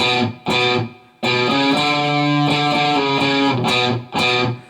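Palm-muted electric guitar rock riff with a gritty, distorted tone, short choked notes broken by brief gaps, then a sustained stretch of chugging, no voices.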